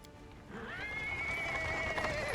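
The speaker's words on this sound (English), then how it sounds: "A cart drawn by a sad little horse appears from around the corner." A horse whinnies loudly and drags out the call over about two seconds, close and alone. The horse pulls a cart into a market square in the fantasy video game Pathfinder WotR.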